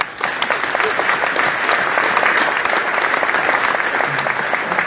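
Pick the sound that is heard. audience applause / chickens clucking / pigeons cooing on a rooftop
audience applause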